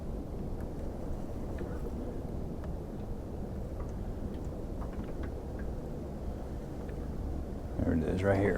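Wind gusting across a fishing boat on open water, a steady low buffeting rumble on the microphone throughout, with someone talking faintly underneath.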